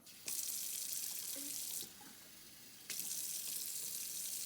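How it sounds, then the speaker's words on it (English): Water pouring into a cold brew coffee maker in a fairly quiet kitchen, a steady hissing stream that pauses briefly and then resumes. "Now you gotta put the water in"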